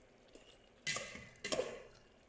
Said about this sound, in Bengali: ঢাকনা দিয়ে ঢেকে রাখার পরে আবার একবার নাড়া দিয়ে নিলাম